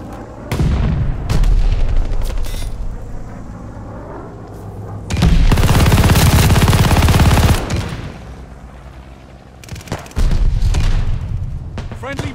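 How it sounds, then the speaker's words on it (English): Mortar fire and explosions in Call of Duty: Vanguard, heavy booming blasts and rumbling detonations surging in loud waves between quieter stretches, with in-game voices calling out over the battle. "Friendly mortar fire coming"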